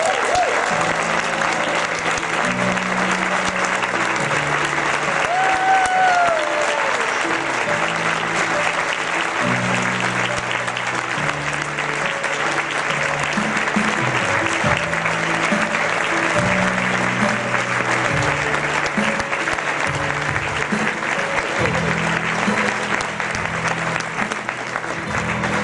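A large crowd claps and cheers steadily throughout, welcoming Bill Clinton and President Barack Obama, a dense, continuous roar of applause that never lets up.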